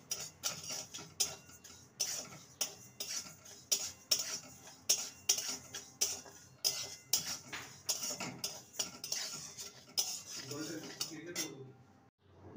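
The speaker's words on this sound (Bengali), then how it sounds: "মুগ ডালকে শুকনো খোলায় ভেজে নেব।" Mung dal is dry-roasted in a pan for a radish dish, with a spatula scraping and clinking against the metal in a brisk, regular rhythm, close and steady, under occasional speech.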